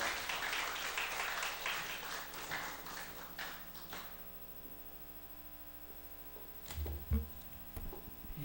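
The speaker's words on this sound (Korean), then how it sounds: "우리 강 목사님 나오실 때 큰 박수 함성으로 환영합니다." A church congregation applauds to welcome the pastor at a dawn service, a loud burst of many hands clapping that fades after a few seconds into a quiet room hum, followed by a few scattered thumps.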